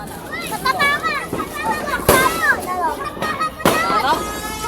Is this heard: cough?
no